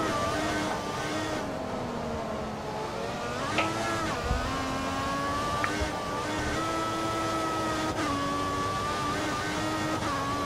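Formula 1 cars in the F1 2014 racing game at Suzuka, two Mercedes among them, give a steady, high engine whine that rises and falls with gear changes and runs continuously throughout.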